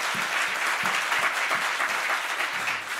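A church congregation at a Korean new-year service at Jesus Village Church claps steadily and densely for the whole stretch, a full, loud wash of applause with no voices over it.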